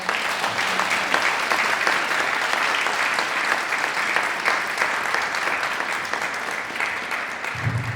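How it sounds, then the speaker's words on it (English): A room full of attendees at a university humanities event on AI and ethics breaks into sustained applause. The clapping is dense, even and loud for the whole stretch, with no talking. "I would love it to ask y'all to give a round of applause for our"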